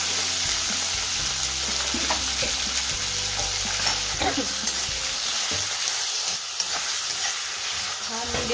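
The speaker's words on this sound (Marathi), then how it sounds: "हा मीडियम फ्राय करून घ्यायचा कांदा" Onion frying in oil for a mixed vegetable dish, a loud, steady close sizzle with stirring scrapes running throughout.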